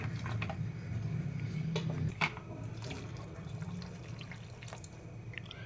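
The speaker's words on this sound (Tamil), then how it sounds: "இன்னும் கொஞ்சம் தண்ணி ஊற்றிக்கலாம்." Steady running water pours and splashes into a pot of thick avarakkai kulambu (broad bean curry), a continuous liquid hiss with faint drips and clinks, no talking.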